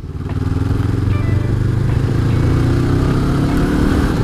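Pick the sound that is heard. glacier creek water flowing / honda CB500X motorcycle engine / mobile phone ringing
honda CB500X motorcycle engine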